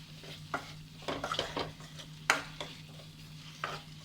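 Tomatoes are being sautéed in a pan for a South Indian egg curry. Scattered spoon scrapes and clatters sit over a faint background sizzle, fairly quiet and close.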